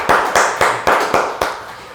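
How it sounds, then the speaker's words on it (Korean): A church congregation at a Sunday Full Gospel worship service claps in unison, about six loud, even, rhythmic claps in quick succession. "주님께 감사와 영광의 박수 올려드리겠습니다"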